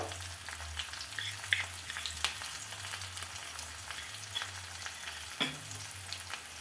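Potatoes frying with salt and turmeric in a pan, a faint continuous hiss with occasional light clicks of a stirring utensil beneath a low steady hum.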